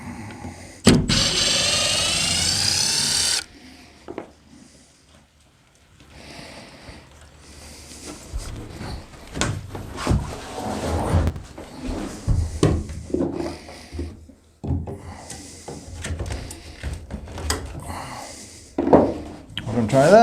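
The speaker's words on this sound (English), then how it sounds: "I'm going to go ahead and take the screw out." A power drill removing a screw from a hinge on a shed door: one sustained whirring burst near the start, followed by scattered knocks, handling clatter and a person talking.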